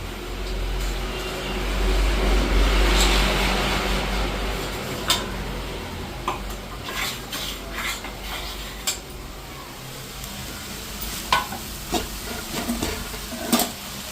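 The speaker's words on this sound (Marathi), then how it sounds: "आणि हे बघा चांगला आता परतून घेतली मिरची मसाला" Chili masala sautés in a pan as roasted peanuts and garlic are tipped in, with a soft continuous hiss broken by scattered sharp clicks and scraping knocks of stirring, moderately close and without talk.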